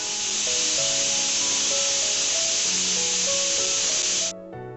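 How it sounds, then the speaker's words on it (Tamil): A pressure cooker of chicken biryani gives its first whistle: a loud, close, sustained steam hiss with wavering whistle tones that cuts off sharply near the end. "இப்போ வந்து ஒரு விசில் வந்துருச்சு."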